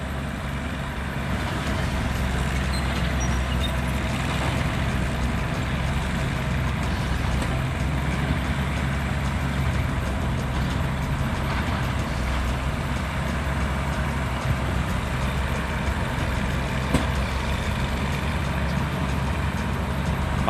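A FUSO 240 truck with a wheel sunk deep in mud, its engine droning low and steady close by for the whole stretch, revving hard but staying heavy and rumbling without a break.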